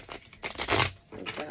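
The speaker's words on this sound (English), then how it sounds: "I'm gonna shuffle this deck" A deck of tarot cards being shuffled by hand, giving a few quick close riffling and papery slapping bursts with short pauses between them.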